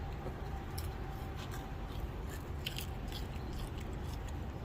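Quiet, close crunching and chewing of crispy brisket fat with a few crisp bites scattered through, no talking.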